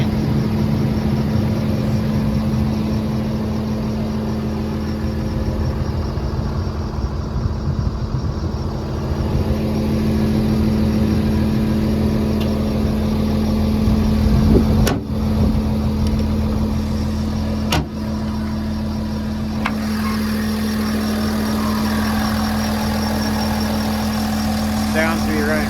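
A Volvo EC300E long reach excavator engine idles steadily and close by, a continuous low drone with a strong steady hum, holding even for the whole stretch apart from a few brief clicks near the middle.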